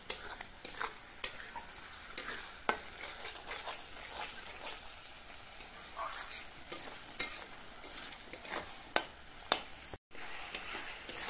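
Chicken pieces fry in a pan while being stirred, a steady sizzle punctuated by regular spatula knocks and scrapes against the metal, close and moderately loud, without talking.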